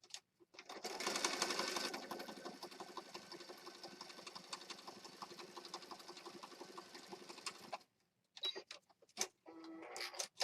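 Sewing machine stitching around the outside edge of a handmade winter woodland junk journal, one long steady run of rapid needle chatter close up, stopping abruptly and followed by a few handling clicks and rustles.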